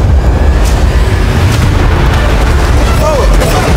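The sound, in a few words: fireworks exploding on a yacht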